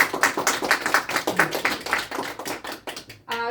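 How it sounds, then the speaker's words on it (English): A small group at a game table claps for a player in a brief round of close, uneven applause that stops abruptly, followed by a short voice. "Please applaud Miss Phoenix as she's leading our table."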